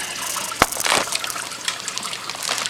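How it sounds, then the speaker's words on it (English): Aquarium water pours out of a plastic fish bag, a close splash followed by a short gushing, trickling flow that tapers off. "So look, I poured some water out of the bag."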